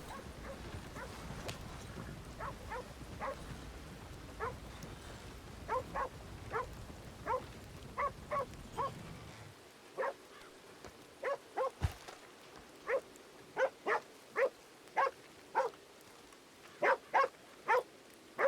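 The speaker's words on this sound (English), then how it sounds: "Dog's gone fucking nuts." A dog barking frantically, a long run of sharp, rapid barks in quick bursts, loud and nearby, with steady noise under the first half and quieter gaps later.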